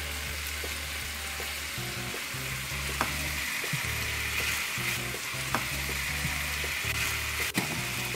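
Potatoes, new and red, go into a hot frying pan for chicken pot pie, sizzling and frying steadily with repeated stirring and clattering bursts throughout, close and fairly loud, with no talking.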